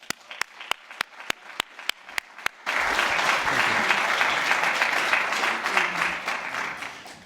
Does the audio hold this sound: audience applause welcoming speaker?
yes